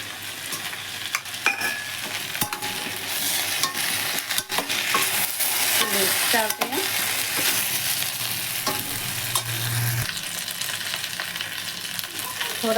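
Chopped onions frying and being stirred in a pan with crisp-fried taro (arbi), a steady close sizzle with scraping stir strokes and a few clinks, no talk.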